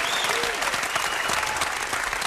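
A television studio audience applauds a returning celebrity guest, a thick, continuous wash of clapping with some crowd noise and a few whoops running through the whole short stretch.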